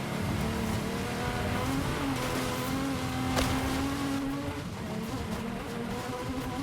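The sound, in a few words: Ferrari racing car engine in a video game race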